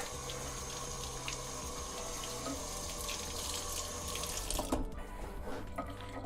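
Water runs steadily from a kitchen sink faucet, rinsing debris out of a sink screen, with a continuous close splashing rush and no talk.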